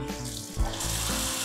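A water tap is opened and runs with a steady broadband rush, joined by a brief knock of the valve partway through, set in a setup with a water pump and pressure control.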